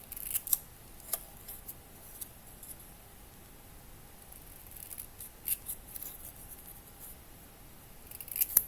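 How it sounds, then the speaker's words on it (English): Small scissors snip a little paper piece for a miniature kitchen build, giving a series of quick, quiet, close clicks scattered irregularly, with several snips bunched at the start and end. "cut out this little thingy here."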